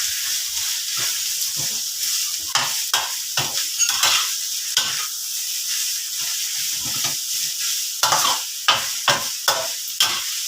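Pickled mustard greens stir-fried with golden garlic in a pan: a loud, continuous hiss and sizzle broken by repeated sharp scraping strokes of the spatula, which come in quick clusters toward the end.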